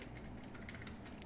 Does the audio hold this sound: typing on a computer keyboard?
yes